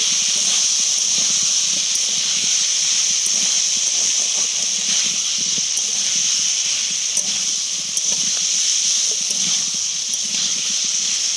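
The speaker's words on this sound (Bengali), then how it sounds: "আবারও একটু ভালো করে কষিয়ে নেব আলু আর মশলা" Small garden potatoes with spices and fenugreek leaves sizzle in a pan, a loud steady frying hiss with faint scrapes underneath.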